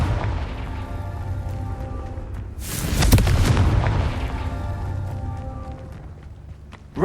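A Confringo fire spell from Hogwarts Legacy bursts in a loud, rumbling blast midway through, swelling and fading over a couple of seconds above a soft, sustained musical backdrop.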